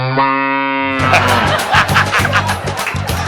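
A buffalo gives one long, deep, droning moo, which cuts off abruptly as busy, noisy background sound takes over.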